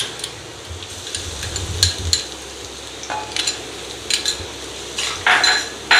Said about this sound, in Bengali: তেলটা গরম হয়ে গেছে। এবার এতে আমি দিয়ে দিলাম রসুন কুচি